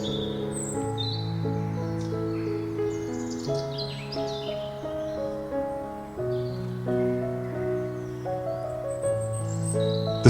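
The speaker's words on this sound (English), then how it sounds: "The sound of morning birds floats through wooden beams" Birds chirp and tweet in high, scattered morning calls over a sustained, melodic musical background, the bird sounds fairly soft and intermittent.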